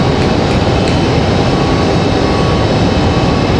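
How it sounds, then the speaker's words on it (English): Aeromexico jet airliner departing Raleigh-Durham International, a loud steady broadband engine roar filling the whole stretch without letup. "We'll get Aeromexico's departure as well."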